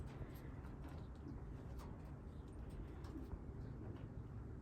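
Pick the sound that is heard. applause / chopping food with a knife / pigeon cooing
pigeon cooing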